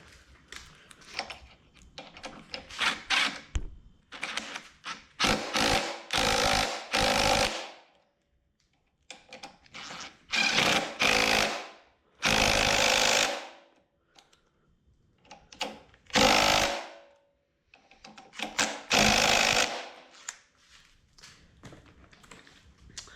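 Power tool driving mounting bracket bolts on a Coleman mini bike, several loud close bursts of buzzing rattle separated by short pauses and quiet handling noise.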